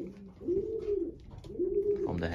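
Racing pigeons coo in a loft, two drawn-out, low, throaty coos close by and moderately loud, each rising then falling, with a faint rustle between them.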